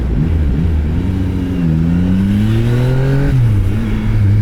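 A big motorcycle accelerates hard, its engine note climbing steadily in pitch and then dropping sharply at a gear change before rising again, loud and close.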